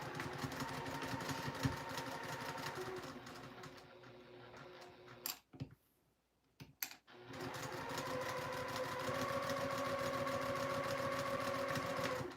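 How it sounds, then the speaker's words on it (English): A sewing machine runs along the short and long raw edges of fabric with a quarter-inch seam allowance, humming and rattling steadily up close, stopping for a short quiet gap with a few clicks, then starting again. "We're gonna stitch along the short edge and the long raw edge."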